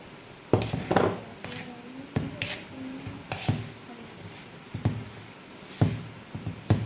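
Melted butter and icing sugar are mixed in a bowl with repeated clinks and scrapes of a utensil against the dish, irregular and close.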